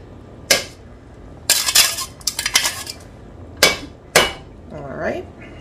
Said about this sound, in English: I'm going to put this in, and then I'll give this a stir.